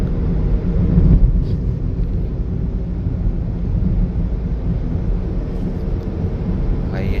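A vehicle engine accelerating in gear, a loud continuous low rumble with some wind buffeting that holds steady throughout and briefly swells near the start.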